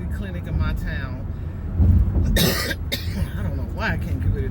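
A woman coughs a few times indoors, the sharp bursts rising above a low, steady background rumble, with breathy throat noise between them.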